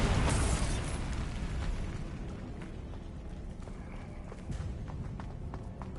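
Bombarda blasting spell from Hogwarts Legacy goes off with a loud explosive burst at the start, then a rumbling decay scattered with small pops and debris clatter.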